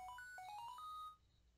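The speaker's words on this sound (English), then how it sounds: "our phone, the cross-transceiver, activates" Xtransceiver phone in Pokemon Volt White gives a quick electronic ringtone, a short run of rising beeping tones lasting about a second before cutting off, alone with no talking.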